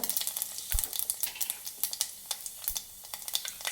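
Fenugreek and cumin seeds sizzling in hot oil for a tomato curry, a close, bright crackle with rapid irregular pops and a couple of soft low thumps, no talking.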